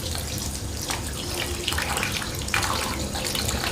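Tap water runs steadily into a bathroom sink while an airbrush paint nozzle and its small container are rinsed, giving a loud, continuous splashing hiss with slight shifts as the flow is interrupted.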